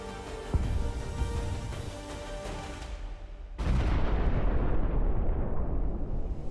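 Artillery shelling strikes a Russian armored column in the Donetsk region, heard as a sharp blast followed by a loud, sustained roar of explosions and rumble that continues to the end.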